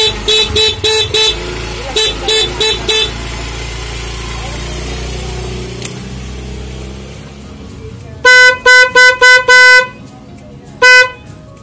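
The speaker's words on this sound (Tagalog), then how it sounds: "testing na natin yung ating stock horn with dual horn" Loud bursts of a Kawasaki Fury 125 motorcycle's dual snail horn, first several quick honks, then after a pause more honks and one final toot, over a running engine.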